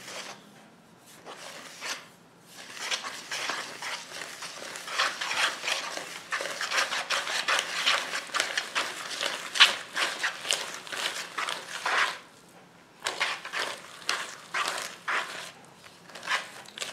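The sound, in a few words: beaten eggs being mixed for chocolate crêpe batter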